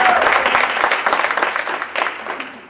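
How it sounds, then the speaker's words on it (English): An audience at an education forum breaks into a round of applause, dense and loud at first, then thinning into scattered individual claps as it fades. "how about a nice round of applause"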